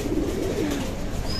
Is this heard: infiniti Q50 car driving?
no